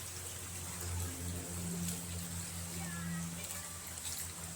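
Flood water from a raging river pouring in over the ground, a steady low rushing wash with a constant hum beneath, fairly faint and unbroken for the whole stretch.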